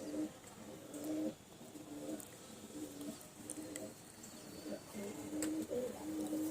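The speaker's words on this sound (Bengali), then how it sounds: "এই সাদা জিরা বাচ্চাটা ভালো করে লক্ষ্য করুন বন্ধুরা, খুব ভালো ব্লাডের পায়রা" Pigeon chicks in a home loft coo repeatedly in soft, throaty phrases that rise and fall in a loose rhythm, close and fairly quiet against a light background hiss.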